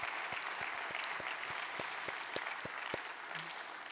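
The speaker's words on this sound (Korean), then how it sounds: "박수 한번 하십시다." A church congregation at a Wednesday service in Edmonton, Canada, claps in a steady, moderately sized round of applause with some individual claps standing out, at mid distance and without talk.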